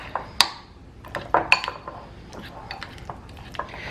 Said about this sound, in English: we're just gonna mix this up.